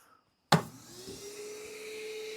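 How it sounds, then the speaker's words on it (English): Shop vac for workshop dust collection switching on with a sudden thump, then settling into a steady whining roar that stays constant and fairly loud, no voices. "that's all the louder my shop vac is"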